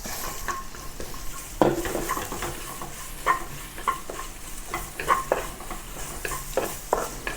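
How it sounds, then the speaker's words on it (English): Carrot pieces stir-fry in hot oil in a wok, a steady sizzle broken by repeated scraping and clinking of a spatula against the metal, close and without talk. "Let it stir fry for a short while until it starts to turn soft"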